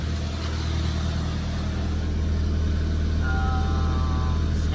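Nissan GA14 engine idling at a stable but high RPM, a steady close mechanical drone with a constant hum and no talking.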